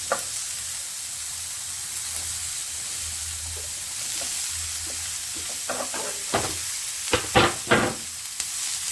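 Carrots and bell peppers sizzle steadily in a hot pan for a chickpea salad, a continuous frying hiss with a few sharper crackles and stirring scrapes toward the end, close and fairly quiet.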